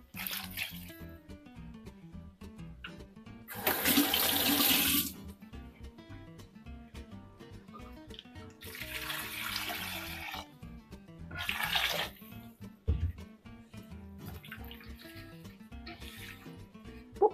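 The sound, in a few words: water poured into a minced meat and potato dish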